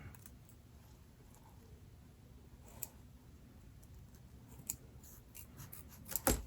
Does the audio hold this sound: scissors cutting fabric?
yes